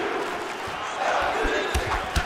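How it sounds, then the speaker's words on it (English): Crowd cheering in the UFC 5 fighting game on PS5 after a women's bout grappling exchange, a steady roar of an arena audience with a couple of thuds, while commentators talk over it. "The crowd goes crazy because they appreciate the high-level grappling that these two women just"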